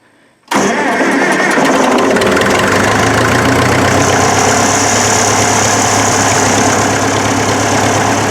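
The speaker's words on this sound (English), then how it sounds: "I'm going to go ahead and start it right on the gas side just because I like to do it that way." A 1957 Farmall 450 tractor engine, started on its gasoline side, cranks and catches abruptly after a short quiet moment, then settles into a loud, steady, close idle with a rough low rumble.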